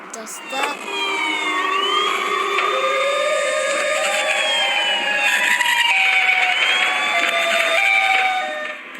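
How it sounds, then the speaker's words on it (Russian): A loud siren wails steadily, several overlapping tones rising and falling together for the whole stretch, sustained and piercing. "услышал громкие вопли сирены"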